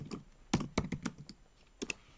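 Quick, uneven taps on a computer keyboard, a short burst of close key clicks with small gaps, fairly quiet.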